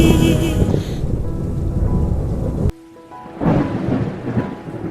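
Heavy rain pours in a dense hiss, cut by a sharp crack of thunder, followed by a brief lull before the downpour swells back loudly.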